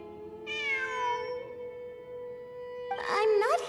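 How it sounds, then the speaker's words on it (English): A cat meowing in the video game Genshin Impact, two drawn-out, clear meows spaced a couple of seconds apart over a steady soft musical drone, no talk. "It really is a cat."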